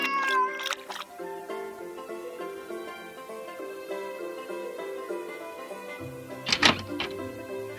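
Cats meowing in a Bengali telling of The Phoenix and the Carpet, with a few short high meows at the start and another burst near the end over a soft sustained musical background.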